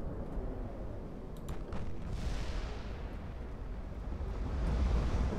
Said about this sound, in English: couple of shells traveling downrange